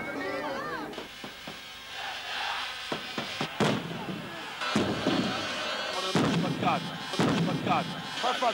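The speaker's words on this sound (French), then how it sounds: "T'as entendu des pétards à Marseille?" Firecrackers burst in a crowd before a 1989-90 Coupe de France football match between Ajaccio and Marseille, several sharp cracks over steady crowd noise and chatter.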